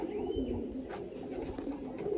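Pigeons in a loft near Baruipur coo softly and continuously, a low throaty murmur from close birds with a faint chirp early on and no talking.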